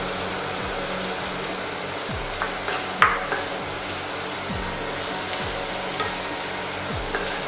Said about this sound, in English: And saute it so that the mushrooms are evenly covered with the mixture.